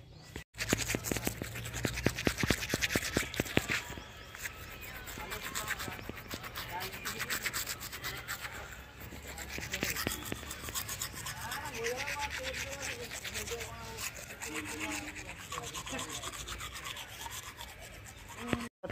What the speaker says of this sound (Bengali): তো চলো ব্রাশটা করে নিই।